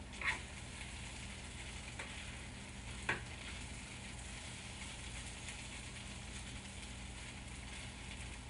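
Butter and ramen noodles sizzling in a pan, a steady faint crackling hiss with a couple of small clicks, continuous and alone.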